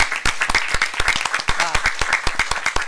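Applause at a school board meeting honoring Artesia High School staff, with sharp, dense hand claps continuing steadily and loudly for the whole stretch.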